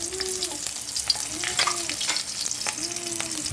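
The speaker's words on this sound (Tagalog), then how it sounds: "Ito na ang ating mantika na meron ng paminta. So magigisa na tayo. Unahin natin ang bawang." Garlic sautés in hot oil with peppercorns for chicken caldereta, a soft, steady sizzle with a few stirring scrapes close by and no speech.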